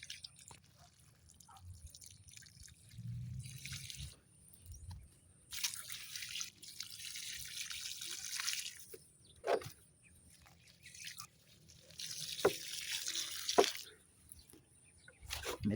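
Water trickles and splashes in intermittent bursts onto eggplant and okra plants in a garden, with soft dripping between pours, close by and moderately quiet.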